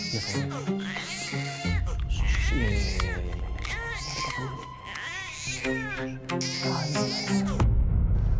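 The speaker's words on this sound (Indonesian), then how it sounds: "Kamu urus aja bayi berisik itu." An infant wails in a TV drama scene, with loud, sustained, rising and falling cries repeated throughout, mixed with adult voices talking.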